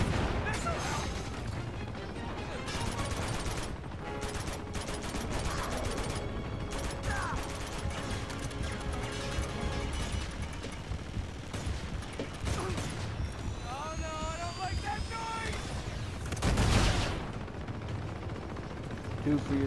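Enemy gunfire in Uncharted 2 rattles off in repeated bursts and single cracks across the stretch, mixed with game effects and a loud blast near the end, while a voice talks intermittently over it.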